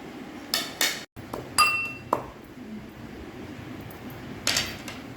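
Green chillies, ginger and cumin pounded by hand with a pestle, a few sharp separate clinking knocks with quiet gaps between them, fairly close, no talking.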